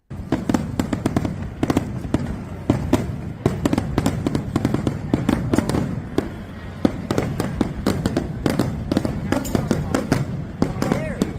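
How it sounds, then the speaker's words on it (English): Fireworks bang and crackle in a dense, continuous barrage of sharp bursts, fairly close and loud, with voices talking and shouting underneath throughout. "Fireworks thing's a little annoying."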